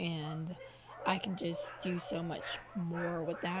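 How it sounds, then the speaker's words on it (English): Several of four household dogs bark at a mailman somewhere else in the house, faint and intermittent beneath steady close talking. "I'm sorry if you guys hear the dogs barking in the background."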